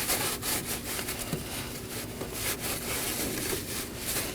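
A rag rubbing and wiping the engine mating surface on a 2018-2024 Chevrolet Equinox 1.5L during vacuum pump replacement, with quick scratchy strokes close by and no talk.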